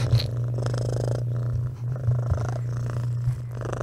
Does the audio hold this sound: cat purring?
yes